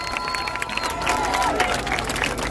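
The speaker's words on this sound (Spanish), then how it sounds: "Quiero pedir un fuerte aplauso" Crowd at a Christmas toy-distribution event in Colón applauding and murmuring, a brief dense wash of clapping and voices under a busy outdoor ambience.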